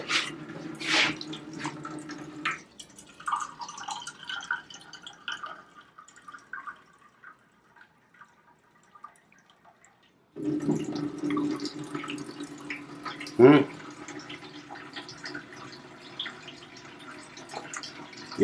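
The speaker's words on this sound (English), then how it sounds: "Now we can open this faucet and it will have crystal clear water" Tap water from a faucet on a nano-particle water sterilization unit pouring into a glass, a steady trickle and splash in two stretches separated by a quiet gap, with drips and a clink midway.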